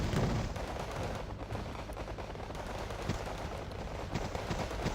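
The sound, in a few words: gunfire from a Hind helicopter in video game Wargame Red Dragon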